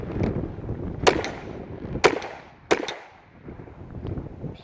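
Three sharp pistol shots from a Ruger automatic pistol firing CCI ammunition, spaced about a second apart and fairly close, over a low outdoor background.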